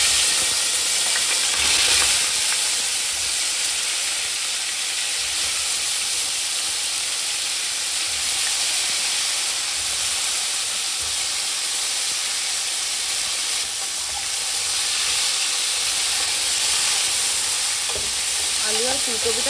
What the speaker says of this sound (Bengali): আলু আর ফুলকপি এখন ভেজে নেবে, একটু হলুদ দিয়েছে, একটু নুনও দিতে